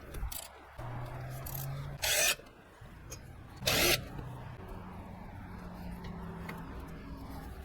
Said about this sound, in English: These two are going to be two 14mm bolts that we have to remove in order to get the caliper off the vehicle.